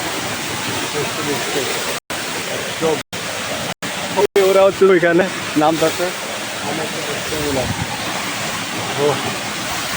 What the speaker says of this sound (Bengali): এখন আমার জন্নার পানিগুলো এক কষ্ট গায়ে ছিটকে এসে পড়তেছে একদম ডাইরেক্ট জন্না থেকে পড়তেছে পানি